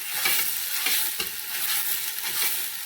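Onions fry in a pan with a loud, continuous sizzle, and the crackling swells and fades as they are stirred around.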